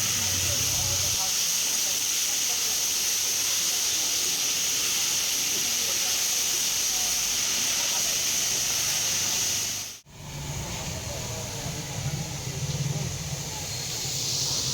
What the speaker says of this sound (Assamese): কলডিলখিনি 5 মিনিটমান ভাজি লোৱাৰ লগে লগে যোগ কৰি দিলোঁ